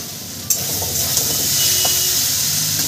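Potatoes frying with turmeric in a pan give a steady, close sizzle and hiss, with a few light stirring clicks near the start and occasional spatters.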